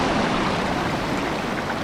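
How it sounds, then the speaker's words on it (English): Yuba River water surges and washes in and out along the bank, a loud, continuous broadband rush of turbulent flow with no voices over it. "we got waves that wash in and wash out"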